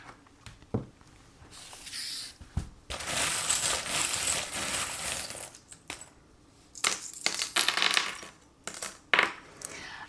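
Small charms are cast and scattered for a divination reading, giving a series of light clattering, jingling clicks and brief rattles in irregular bursts, close and fairly quiet.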